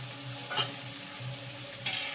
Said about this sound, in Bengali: এবার ভালো মশলাগুলো দিয়ে একটু ভালো করে নেড়ে নিতে হবে।